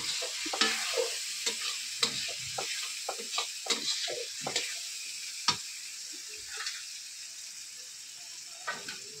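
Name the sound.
chili and turmeric paste being stir-fried in a pan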